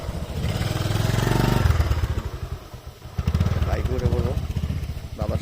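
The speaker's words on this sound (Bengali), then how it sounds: "এখন আমরা উঠে পড়বো বাইকে হ্যাঁ সাবধানে চালাইতে হবে" Motorcycle engine running on a hill road, a loud, near, throbbing idle that revs and dips with some clattering, while people talk over it.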